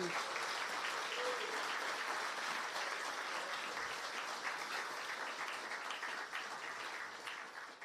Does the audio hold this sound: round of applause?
yes